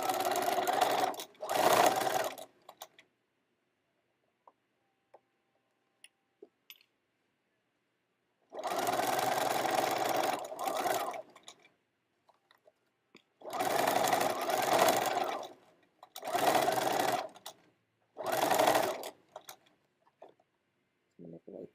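Sewing machine stitching a quarter-inch seam starting at the point of a heart-shaped zippy pouch, in several loud, steady runs of a few seconds each, separated by silent pauses.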